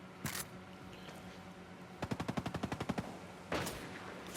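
Sniper rifle fire in the video game Ghost Recon: Breakpoint: a sharp single report, then a rapid burst of about ten evenly spaced cracks, then another loud single shot, with quiet gaps between.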